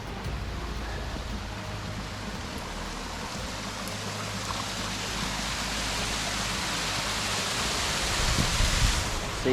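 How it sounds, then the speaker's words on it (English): A 220-metre waterfall in Victoria roars with a steady broadband rush of falling water that holds constant throughout and swells slightly toward the end. "it's about 220 metres high. Apparently, tallest waterfall in Victoria."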